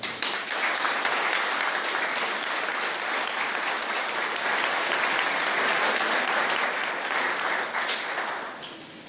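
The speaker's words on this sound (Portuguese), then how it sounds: "Eu peço a ele uma salva de palmas." An audience at an anniversary ceremony of a historical institute in Passo Fundo applauds loudly and steadily for about nine seconds, a thick wash of clapping that tapers slightly at the very end.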